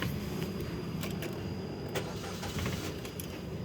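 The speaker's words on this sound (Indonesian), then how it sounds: "mesin sudah menyala nih teman-teman" A 2018 Suzuki Ertiga GX with manual transmission idles right after starting, a steady, muffled engine hum with faint clicks, heard up close and without talk.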